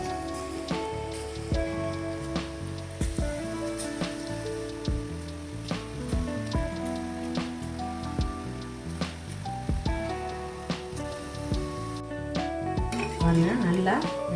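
Small pieces of vada batter fry in hot oil with a steady crackling sizzle, punctuated by clinks and taps of a utensil against the pan, close and fairly quiet.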